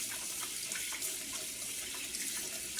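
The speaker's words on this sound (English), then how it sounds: "Wash my hands again." Tap water runs steadily into a sink as hands are washed in a home kitchen during cooking, a continuous close splashing hiss with no talking.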